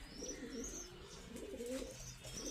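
Pigeons coo in a loft of caged breeding pairs, with a continuous chorus of low throaty calls overlapping at close range and a few higher chirps above.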